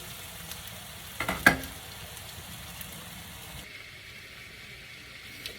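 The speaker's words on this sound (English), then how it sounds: "So my onions are cooking." Onions frying in a pan, a faint steady sizzle and crackle with a brief louder clatter near the start.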